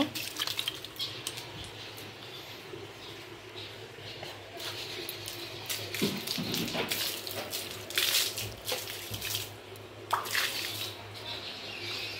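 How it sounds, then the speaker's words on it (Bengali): Water splashing and dripping as a tulsi plant is washed, with irregular near splashes and trickles over a steady low household hum, no talk. "তুলসীটাকে একটু ধুচ্ছি।"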